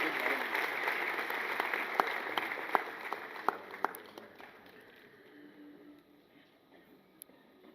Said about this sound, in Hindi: जोरदार तालियों से उनका स्वागत किया जाए।